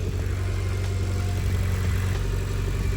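Mitsubishi Evo X, built to around 500 hp with a dump tube exhaust, idles steadily while warming up, a loud continuous low rumble with no other sounds over it.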